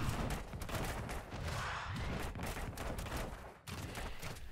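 Sylvanas unleashes Withering Fire in Heroes of the Storm, a dense, nonstop stream of rapid projectile shots and impacts layered over busy battle noise, loud and close, with a brief dip near the end.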